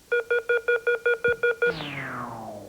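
A quick run of nine identical electronic beeps, then a long falling tone that slides downward and fades out, marking the end of a period in a televised academic quiz competition.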